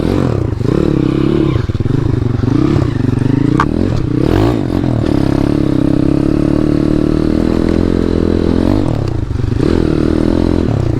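A Jawa KTM motorcycle with a YX 140 engine rides and revs continuously, its loud rasping engine rising and falling with throttle changes and heard up close throughout.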